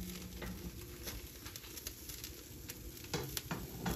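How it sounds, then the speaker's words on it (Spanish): Chicken quesadillas toast in a hot pan, giving a steady, close sizzle with faint crackling patter throughout, a few soft scraping clicks near the end, and no voices. "Vamos ahora sí a mientras están tostando aquí."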